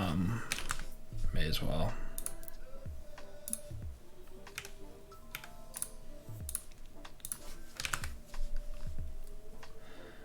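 Someone types on a computer keyboard in bursts of quick clicking keystrokes, close and fairly clear, while someone speaks briefly over the tapping.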